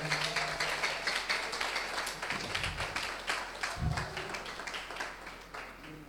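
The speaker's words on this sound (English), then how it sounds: "clap your hands for her as well." An audience at an entrepreneurship workshop seminar claps steadily in a dense, continuous patter lasting several seconds, with a couple of dull low thumps partway through.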